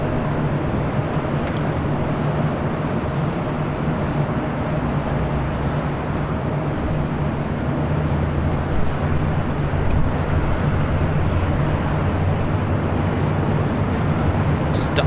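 A Delta Airlines Airbus A319 jet at LAX gives off a constant, loud engine roar with a low hum beneath it, and voices speak faintly over the noise.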